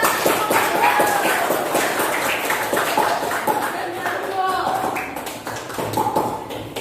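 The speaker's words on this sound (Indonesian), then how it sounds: "Yuk tepuk tangan sekali lagi yang lebih meriah." A classroom of students applauding, a dense patter of many hands clapping at close range for several seconds, with voices talking and calling out over it.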